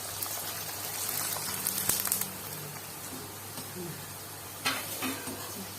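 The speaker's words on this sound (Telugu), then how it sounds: "ఇవి నూనెలో వేసి చూపిస్తాను" Ragi flour papads, sun-dried, frying in hot oil: a steady broadband sizzle with faint stirring and utensil clinks, louder bursts near the start and again toward the end.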